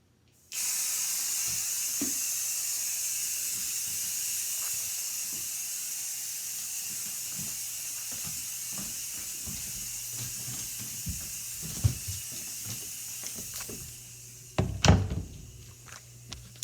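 A flea bomb fogger releases a steady gas hiss that runs alone for a long stretch, with faint clicks underneath and a few knocks and thumps near the end.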